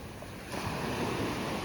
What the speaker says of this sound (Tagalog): medyo nakakatakot yung hampas ng alon